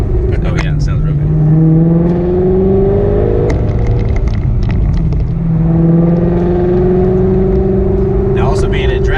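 A tuned 800R twin-turbo Ford Mustang GT350 engine accelerates hard, with two rising pulls in a loud steady drone, the second following a brief shift, and people talking over it.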